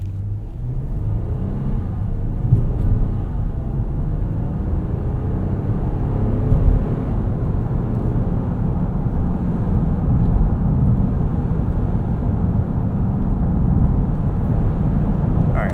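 Inside a 2023 Nissan Pathfinder Rock Creek Edition on a dirt road, a loud, steady low rumble of tires and engine fills the cabin with small bumps, and no one speaks.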